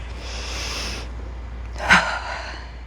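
A sharp breath drawn in during a seated chair-yoga shoulder shrug, one quick audible inhale standing out briefly from soft room hiss, close and fairly faint.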